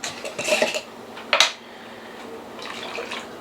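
A jar holding beef broth and red chili is shaken, giving a few quick sloshing, rattling bursts, loud and close, followed by quieter faint clinks and a low background hum.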